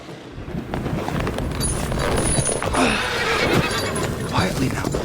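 A horse whinnies amid a radio drama scene at stables during a storm, with steady wind-like noise and faint hoof movement in the background.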